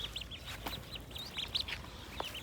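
Hens cluck and chirp in short bursts while being herded inside a poultry shed, faint and scattered with a few louder calls close by.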